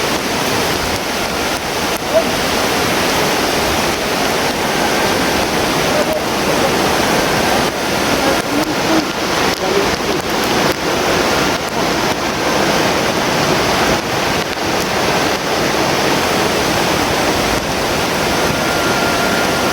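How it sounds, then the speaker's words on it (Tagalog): Heavy rain pours down in a dense, loud, unbroken hiss that stays steady throughout, with faint voices barely audible beneath it. "Ayun tol, lakas talaga ng ulan tol."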